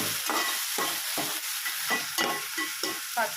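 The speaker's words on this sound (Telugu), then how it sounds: "ఇప్పుడు మిక్స్ చేసుకోవాలండి, కలుపుకోవాలి" A spoon works ginger garlic paste and tomato puree around a hot pan for palak paneer, giving steady rhythmic scraping strokes about every half second over a continuous close sizzle.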